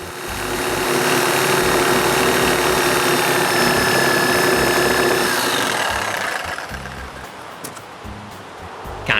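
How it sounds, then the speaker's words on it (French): Reciprocating saw cutting away the wood left between circular saw kerfs in a beam, a loud buzzing, rasping drone that runs steadily for about six seconds, then fades to quieter scattered knocks and handling sounds. "Le reste du bois entre les coupes de la scie circulaire, ils se font avec une scie va-et-vient."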